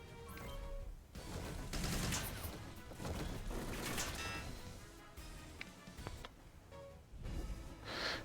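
Gunfire in the video game Front Mission 1st: Remake comes as loud, dense bursts of rapid shots and heavy impacts, clustered in several volleys with brief lulls between them.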